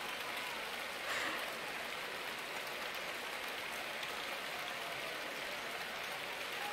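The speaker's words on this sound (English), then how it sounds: "I could just make these people stand and clap all day" A crowd in the Summer Athletics video game keeps up steady, continuous applause, a dense even wash of clapping that runs throughout without a break.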